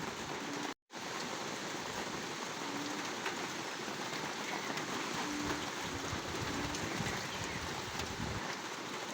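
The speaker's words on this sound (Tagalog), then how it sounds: "Medyo na yung ulan." Steady typhoon rain pouring down with a constant hiss, broken by one brief silent dropout early on.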